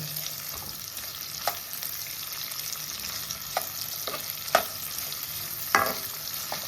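Mutton masala fries in a pan with a steady, close sizzle while a utensil stirs and scrapes it, giving occasional louder knocks against the pan.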